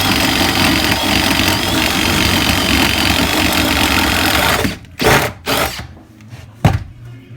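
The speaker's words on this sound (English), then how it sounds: "We've now drilled it through the wall." A power drill bores through a house wall to run cable during an electrical rewire, grinding steadily and loudly for several seconds, then stopping and giving a few short bursts.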